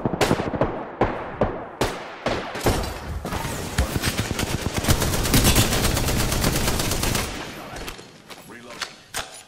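Triple Take rifle fire in Apex Legends, loud sharp shots in quick bursts that swell into a dense stretch of rapid gunfire mid-fight, then thin out to scattered shots, with voices in the game mix.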